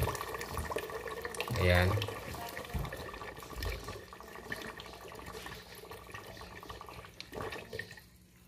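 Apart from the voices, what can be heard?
water draining through DIY mini aquaponics siphon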